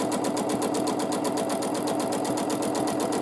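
A sewing machine runs continuously at a fast, even pace during free motion quilting, giving a dense rhythmic chatter of needle strokes that stays loud and close throughout.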